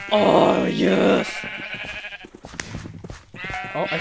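Sheep bleating in the video game Minecraft, a loud, wavering bleat at the start followed by another near the end, with someone talking in between.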